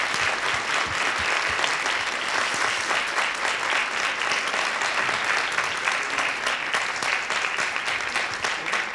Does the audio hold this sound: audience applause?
yes